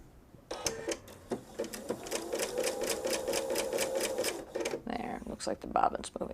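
A sewing machine stitches a jellyroll quilt in a rapid, even mechanical chatter that runs steadily for several seconds, then stutters briefly near the end; a voice is heard talking around the stitching.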